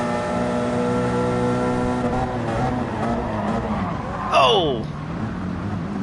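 A race car in a Le Mans racing video game drones with engine harmonics, then dives deep into a corner with a brief sharp tire squeal; a commentator talks over it and someone gives a short exclamation.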